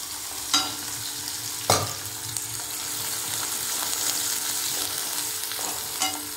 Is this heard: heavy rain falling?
no